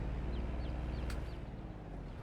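Chickens and ducks cluck and chirp in farm coops in Farming Simulator 22, on the Alma Missouri map. A steady, close murmur of repeated short calls runs throughout, with no talking.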